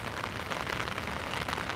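Steady rain falls on street surfaces near the White House in Washington DC as a large storm arrives, a soft, even wash of patter with no voices.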